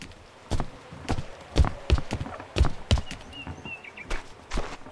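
A horse's hooves clip-clop irregularly on the ground in the farming video game Farmer's Life, with a few sharp distinct strikes and faint birdsong chirping in the background.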